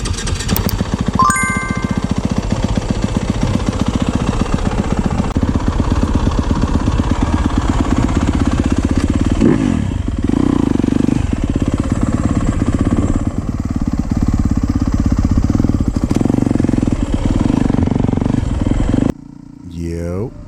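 A dirt bike laps a sandy motocross turn track, its engine buzzing steadily up close and rising and falling with throttle, with brief metallic jingles near the start.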